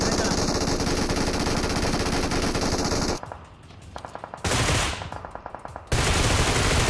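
Dense, loud automatic gunfire in the mobile battle-royale game PUBG Mobile, in sustained rapid bursts that stop twice for brief gaps with fainter shots before resuming.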